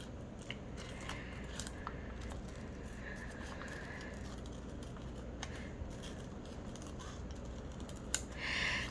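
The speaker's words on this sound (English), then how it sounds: "I'm thinking I may cut around him and maybe put him up here somewhere around the bear" Scissors cut around a paper rabbit with a steady run of close, crisp snips and paper rustling, ending in a brief louder rustle.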